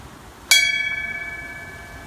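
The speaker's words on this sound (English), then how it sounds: "the lines of firefighters have been closely associated with ringing of the bell" A single clear bell strike rings out at a fallen firefighters memorial service in Arkansas, its bright metallic tone sustaining and slowly fading over the following seconds.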